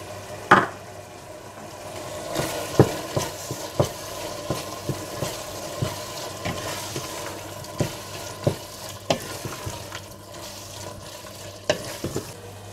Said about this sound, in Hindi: कुटी काली मिर्चें, हल्दी, कुटी लाल मिर्चें और गरम मसाला डालकर अच्छी तरह से मिला लें